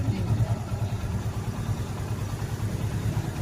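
Heavy traffic of many vehicles crawling slowly up a hill in light rain, with a steady low engine rumble and idling hum from several cars and motorcycles close by.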